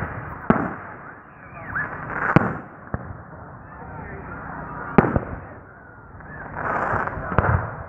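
Fourth of July fireworks go off outdoors, several sharp bangs and crackling pops scattered over the seconds amid rumbling background noise and occasional voices.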